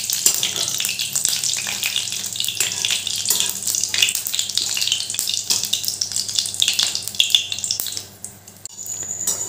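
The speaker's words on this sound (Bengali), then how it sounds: "এবার এই কারি পাতাগুলো ভালো করে ভেজে নেব।" Curry leaves frying until crisp in hot oil, a loud, close crackling sizzle with sharp spits and pops that runs steadily, then drops away abruptly near the end before a faint return.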